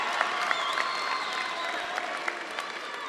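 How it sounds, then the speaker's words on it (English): Graduating students and guests at a Savannah High School ceremony applauding, a sustained dense patter of clapping in a large room with some crowd noise and a few sharp claps standing out. "So give yourselves a round of applause for that."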